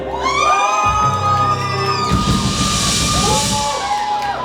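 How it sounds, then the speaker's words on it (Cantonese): An audience at a children's drum performance erupts in loud cheering and high whoops, a dense wash of voices that swells after a brief lead-in of shouted tones. "我哋大家嚟多次歡呼聲"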